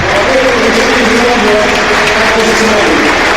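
Stadium crowd at the Emirates Stadium applauding during a minute of reflection at an Arsenal versus Manchester United match, a steady, loud wash of clapping from thousands filling the whole moment with a voice over it.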